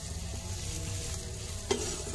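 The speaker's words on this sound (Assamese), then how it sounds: "আৰু মই এতিয়া ঘি কাবাবখিনি ইয়াতে দি দিছো অলপমান দেৰি বেছি দেৰি ভাজিব নালাগে" Packaged chicken kebabs fry in ghee in a pan on a low flame, giving a steady soft sizzle with a faint crackle and one small clink of a utensil, close and continuous without talking.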